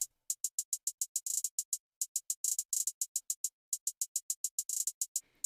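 Programmed hi-hats in an FL Studio trap beat: a crisp, bright, steady stream of short ticks with quick rolls and stutters between them. They play alone, with no drums or voices underneath.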